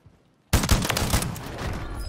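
Sudden burst of rapid gunfire in a shooter video game on the Vondel map, Rebirth mode, starting abruptly after near silence and continuing as a dense, loud fusillade of overlapping shots.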